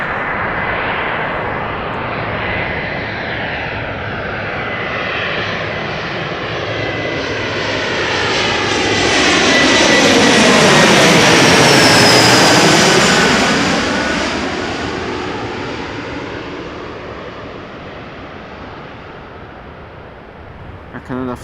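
An Air Canada airliner on flight 808 arrives at Amsterdam Schiphol, its jet roar swelling loudly as it passes close overhead with a sweeping pitch shift, then slowly fading away.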